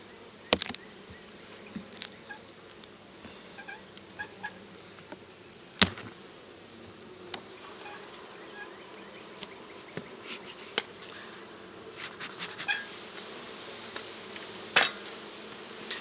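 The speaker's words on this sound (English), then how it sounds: "These are the most aggressive bees that I've got" Aggressive honey bees buzz in a steady, close drone, with occasional sharp clicks and taps over the continuous hum.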